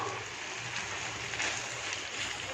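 Steady hiss of rain beginning to fall outdoors, a dense even wash of sound with a low hum underneath and no voices.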